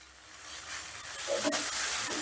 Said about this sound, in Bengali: এবারে গ্যাসের আঁচটা বাড়িয়ে দিয়ে আমি মশলাটা বেশ খানিক্ষণ কষে নেব